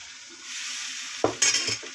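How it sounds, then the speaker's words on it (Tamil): Appam batter poured into a well-heated appam pan gives a steady hiss, followed by a few soft clatters and a sudden bright sizzle. "இப்போ அடுத்த ஆப்பம் ஊற்றிடலாம் நல்லா சட்டி ஹீட்டாக இருக்கணும்"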